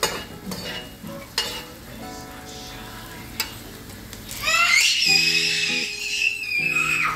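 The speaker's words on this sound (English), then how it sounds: "Alright, so I'm turning these now because they are brown." Smoked bones browning in a frying pan for a Trinidad-style bhaji cook-up are turned with a utensil, scraping clinks over steady sizzling that grows louder and more hissing toward the end, close by, with tonal whistling notes overlaid.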